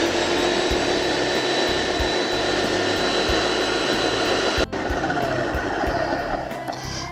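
A food processor blends herb mayonnaise with a steady, loud whirring motor drone that runs continuously, a brief dip near the end before the hum resumes.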